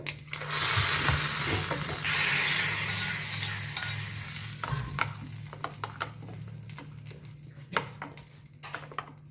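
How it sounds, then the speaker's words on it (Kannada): Mustard seeds, curry leaves and a dried chili tempering in hot oil for a red chutney: a loud burst of sizzling and spitting that gradually quiets into scattered pops and crackles, with a steady low hum and no voices. "ಒಗ್ಗರಣೆ ಕೊಡ್ತಾ ಇದ್ದೀನಿ ಸಾಸಿವೆ ಎಣ್ಣೆ ಕರಿಬೇವು ಒಂದು ಒಣಮೆಣಸು ಹಾಕಿರೋದು"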